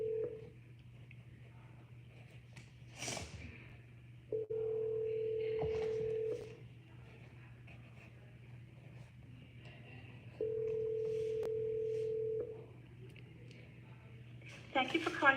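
Phone call being placed: two long steady dial tones separated by short key presses, with faint background murmur between tones and a brief clatter near the end.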